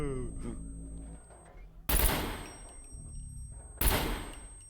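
Two loud, sharp bursts of gunfire ring out about two seconds apart in the SCUM video game, each followed by a decaying tail, against a quiet, humming background.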